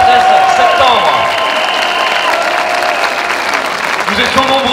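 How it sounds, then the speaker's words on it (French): A crowd applauds steadily and loudly throughout, with a voice heard speaking over the clapping, at a Paris street protest in support of Professor Perron. "D'abord, des applaudissements pour le professeur Perron"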